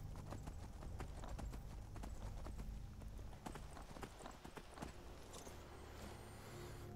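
A horse's hooves clip-clop in a fast, steady rhythm in Skyrim, loud and close, over a low rumbling backdrop, the beats thinning toward the end.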